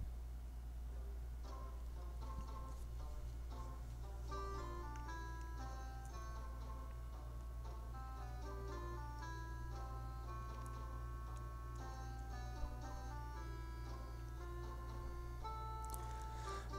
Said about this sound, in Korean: 다음으로 음악을 재생해 보겠습니다